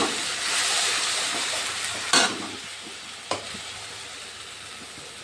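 Cumin seeds fry in very hot oil for potol paneer kofta, a steady close sizzle and hiss with two sharp stirring scrapes in the middle, no voices.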